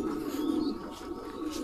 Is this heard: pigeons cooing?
yes